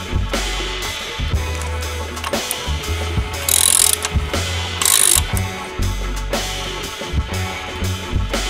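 A 24 mm ratchet wrench working on the brake of a Honda Click 150i scooter, with repeated clicking ratchet strokes under a steady mechanical background and two louder bursts of rapid pawl clatter.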